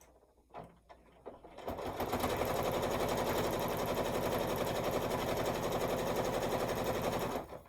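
A sewing machine stitching across quilt sashing: a few soft handling knocks, then a fast, even mechanical rattle running close and loud for about six seconds before stopping.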